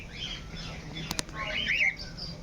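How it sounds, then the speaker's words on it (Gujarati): A cockatiel in the bird section of Pradhyuman Park zoo in Rajkot gives a few short squawks over a steady hum of other birds and ambient noise, with two sharp clicks in the middle. "કોકાટેલ"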